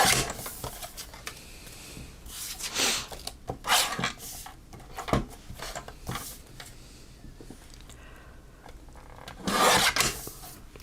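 Thick glitter paper on heavy card being trimmed, heard as a run of close, loud rasping cuts and rubs coming in short bursts with brief pauses between them, with no voice.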